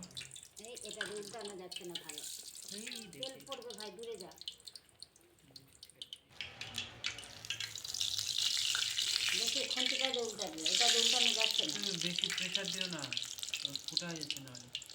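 Pitha cakes frying in hot oil give a continuous bubbling sizzle that swells louder midway, heard under women chatting nearby.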